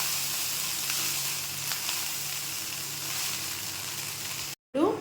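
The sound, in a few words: chicken fried rice stir-frying on high flame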